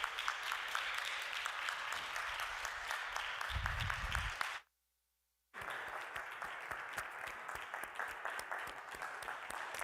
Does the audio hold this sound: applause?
yes